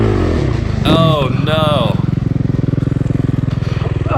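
A Suzuki RMZ450 dirt bike engine rattles along at a fast, steady idle-like thump on a sandy trail, loud and close, with a man's brief exclamation over it early on.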